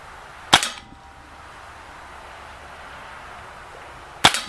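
An Umarex Makarov Ultra CO2 blowback 4.5mm BB pistol fires two sharp, snappy shots several seconds apart outdoors, each a loud crack with a brief tail over quiet background.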